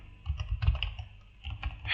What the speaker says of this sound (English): My typing speed is pretty sad.